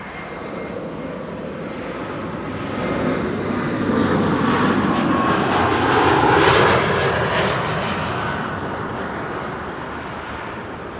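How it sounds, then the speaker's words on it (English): A Turkish Airlines Airbus A380 on approach to runway 36 right at Amsterdam Schiphol, its jet engine roar building from a distance, swelling loudest midway as it passes, then slowly fading, with no voices over it. "Turkish A380 is approaching 36 right."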